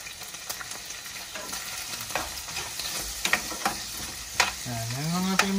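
Meat and onions fry in a pan with oil and are stirred together, giving a steady sizzle broken by scraping and clacking of the utensil. A brief whining tone rises near the end. No voices are heard.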